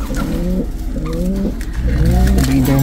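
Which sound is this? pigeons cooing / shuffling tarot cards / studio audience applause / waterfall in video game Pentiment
pigeons cooing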